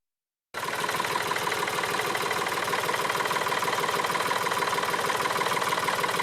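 An old Farmtrac 60 diesel tractor engine idles loud and close after a brief silence, a steady, clunky mechanical chug with knocking pulses running evenly throughout.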